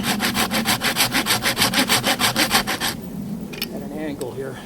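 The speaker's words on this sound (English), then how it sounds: "Blade's really binding up in the kerf." Hand saw working through resinous fatwood, the blade binding in the kerf: a fast, rhythmic series of rasping back-and-forth strokes, close and loud, then stopping, followed by a few scattered knocks and softer rustling.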